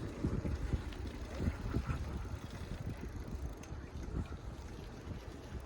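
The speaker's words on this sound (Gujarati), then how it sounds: "પવન આવે છે મસ્ત." Wind rushing past the microphone of someone cycling slowly, heard as a continuous low buffeting roar with gusty thumps and no voices.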